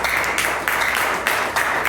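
A church congregation applauding, a dense steady wash of clapping hands that swells in a few waves, loud and continuous with no pause.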